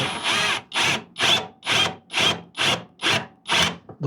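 A drill bores a short pilot hole about half an inch into a workpiece, heard as eight rhythmic, evenly spaced grinding strokes, close and fairly loud, with no talking.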